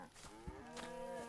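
Cattle mooing in the video game DayZ, a single drawn-out bovine moo with a rising then steady tone, fairly quiet and heard alone without talk.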